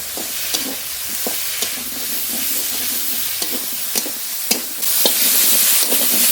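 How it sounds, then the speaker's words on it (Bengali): Fried potato and cauliflower stirred into a sizzling spice paste in hot oil, a steady frying hiss broken by repeated scraping knocks of the spoon against the pan, close up with no talking. "ভেজে রাখা আলু ফুলকপি দিয়ে দেবো মশলার সঙ্গে খুব ভালো করে নেড়ে নেব"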